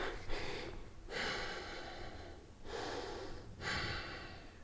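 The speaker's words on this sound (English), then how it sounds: "Exhale down." Slow, deep breaths during a yoga stretch, audible air drawn in and pushed out in long, soft waves, close and quiet with brief pauses between them.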